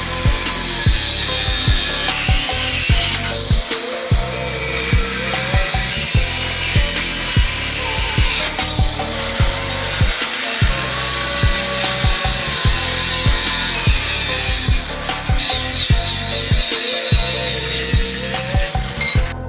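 A cutting disc made for metal grinds continuously through steel for a mini buggy chassis, a loud, close, harsh rasp that holds for the full stretch with rhythmic pulsing and occasional brief dips.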